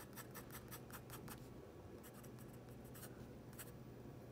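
A Chinese fountain pen scratching across paper, a run of short rhythmic nib strokes, a pause, then another burst of quick scratchy strokes, close and fairly quiet with no voices.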